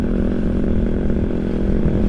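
Suzuki GSX motorcycle fitted with a loud CLD Monster X race exhaust, its engine running with a deep, bassy, steady drone held at high revs throughout, close and loud with no talk.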